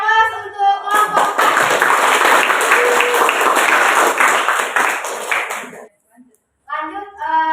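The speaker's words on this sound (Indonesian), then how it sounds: "Beri aplaus untuk kelompok" A classroom audience claps for a student group after its presentation, a loud dense burst of applause lasting about five seconds, with a teacher's voice heard just before and after.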